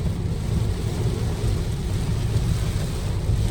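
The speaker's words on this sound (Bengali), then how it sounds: "খুব বৃষ্টি" Heavy rain pours in a dense, steady rumble with deep low-end roar, constant and close, with no voices.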